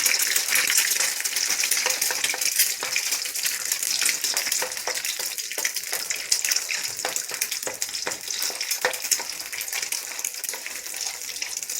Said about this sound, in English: I'm going to put 4 eggs. And get those scrambled.